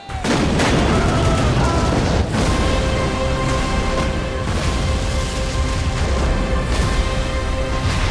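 Cannon fire and booming blasts in a naval battle film set in 1592, dense and continuous with heavy low rumble and repeated sharp reports layered over a dramatic score throughout.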